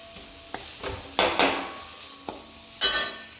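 A tomato sautés in a pan for Kerala-style tomato chutney, a soft sizzle broken by several sharp scrapes and clinks of a spoon stirring against the pan, close and without talk.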